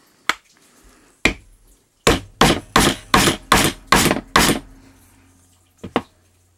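Sharp, close hammer blows strike a wooden dowel to drive a pin out of a Crosman 600 air pistol: two single hits, then a steady run of about eight rapid strikes, and one last tap after a pause.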